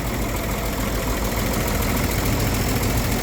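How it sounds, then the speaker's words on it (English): A 1954 GMC truck fitted with a later-model 292 engine from the late 60s or early 70s, needing a carburetor, runs steadily at idle, a loud close rumble with slight knocking and no voices over it. "That's a later model 292, late 60s, early 70s engine."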